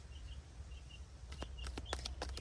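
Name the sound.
birds singing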